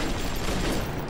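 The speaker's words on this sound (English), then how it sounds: "That rivet gun does not fuck around." A Big Daddy's rivet gun firing in BioShock, a dense, loud, continuous blast filling the whole short moment.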